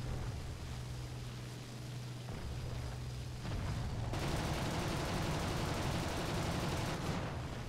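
A combat walker fires its cannons in War Thunder: a dense run of rapid, rough blasts that starts partway through and grows louder and busier toward the end, with no talk.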